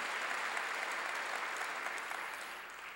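Steady applause from a church congregation during a sermon, sustained clapping that holds at an even level and tapers slightly toward the end.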